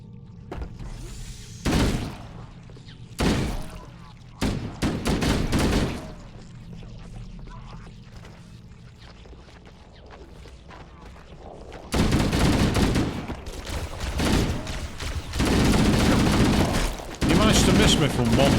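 Weapon fire in Halo: Combat Evolved comes in short loud bursts separated by quieter gaps, then grows into a longer sustained volley near the end, with someone talking in between.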